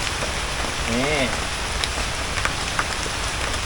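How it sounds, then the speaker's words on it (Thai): Rain falling outdoors, a steady, dense hiss of drops pattering on surfaces with a few brief louder taps, no talking. "เนื่องจากฝนมันตกแล้วนะครับ"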